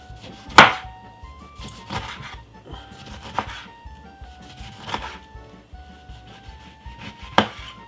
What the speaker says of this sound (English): I'll start to slice some lemon like this